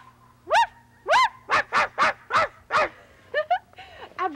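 A human voice imitates a small female dog yapping: about seven sharp high yips in a quick uneven series, followed by softer whimpering yelps, all close and fairly clear over a faint low hum.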